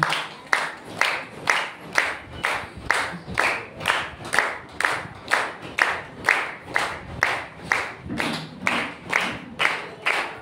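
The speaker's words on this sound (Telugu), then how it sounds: "చప్పట్లు కొడుతూ దైవజనులను మనం గణపడుతామండి" A church anniversary worship crowd claps in a steady, even rhythm to welcome pastors onto the stage, loud and sustained with regular beats throughout.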